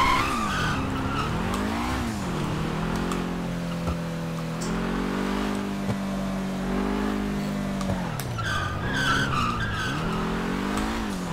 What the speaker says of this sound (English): Like I'm gonna stop drifting just because he told me to.